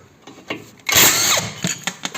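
An impact or power tool whirs in one sustained burst while removing suspension bolts on a SEAT Ibiza 6L, preceded and followed by short clicks and metallic taps nearby.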